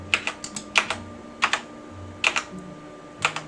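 Computer keyboard keys pressed close by while a hospital management game is used, small clusters of sharp clicks in short bursts with quiet gaps between them.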